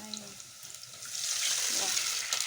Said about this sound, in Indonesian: Terus kita masukkan air.